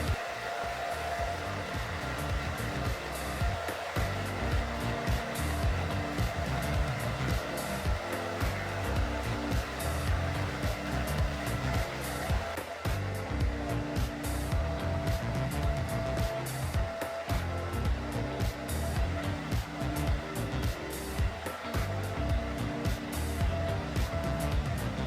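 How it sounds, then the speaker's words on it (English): A Hot Tools blow dryer with a diffuser runs continuously on hair, a loud steady whooshing roar with slight fluctuations as it moves, close up and without talk. "I have a Hot Tools blow dryer."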